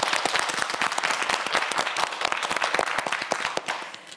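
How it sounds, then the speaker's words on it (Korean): An audience at a televised quiz show bursts into steady, dense clapping to cheer on a student contestant before the final round, a close, even wash of many hands with no voices over it. "더 힘내라고 끝까지 최선을 다해달라고 응원의 박수 마지막으로 한 번 더 보내주시기 바랍니다"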